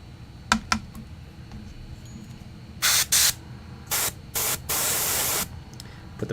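Airbrush spraying a thick coat of primer onto a Warhammer 40k Space Marine Captain miniature in Terminator armor, heard as five short hissing bursts of varying length, the last one longest, with faint clicks and low room noise between them.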